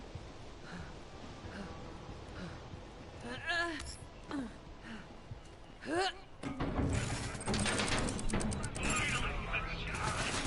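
Automatic gunfire from a Moze build in Borderlands 3 during Mayhem 4 play, with scattered shots and sweeping effects early, then a dense sustained barrage from the middle onward. Game sounds layer over everything.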